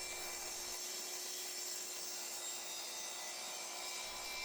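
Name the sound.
sawing a miter cut on wooden chair rail trim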